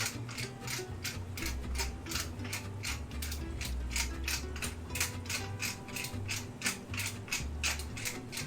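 A hand-cranked grinder turned in a kitchen, giving a steady, fast run of ratcheting gear clicks that carries on evenly throughout, close and fairly quiet with no voices.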